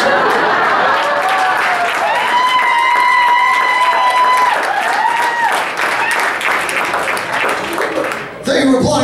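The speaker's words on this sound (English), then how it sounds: "Thank you for applauding that." An audience claps and cheers as a voice talks and sings over the noise, the applause running continuously with the voice in front.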